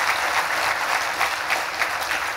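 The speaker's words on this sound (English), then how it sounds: "Can we have that big round of applause?" Dense, steady applause from a large audience at a founder's talk, loud and continuous throughout without a break.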